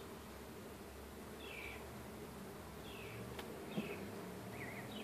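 A quiet, continuous hum of buzzing honeybees during a hive inspection, with a few bees droning past nearby over the steady background.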